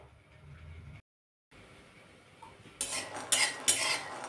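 Peanuts dry-roasting in a kadhai, a metal spoon scraping and clinking against the pan in a few loud, close stirring bursts after a short quiet gap.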